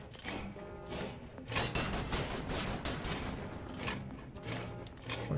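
Gunfire in the video game Wolfenstein: The New Order, a dense run of overlapping shots and thumping impacts that continues without a break, fairly quiet overall with a few louder bursts.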